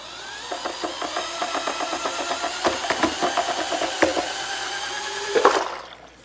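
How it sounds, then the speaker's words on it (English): A handheld power drill stirs a natural adjuvant mixture in quick repeated bursts, its motor whine pulsing rhythmically up close for several seconds before cutting off. "I'm going to take my drill here"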